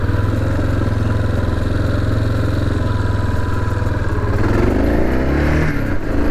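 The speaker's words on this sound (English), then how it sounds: "Going through all the gears pretty smooth. Fueling seems good. Kicking down the gears nicely." A 1986 Yamaha XT 600 dual-sport motorcycle ridden through its gears, a loud, close, steady engine drone whose pitch shifts near the end as the rider changes gear, with no talk over it.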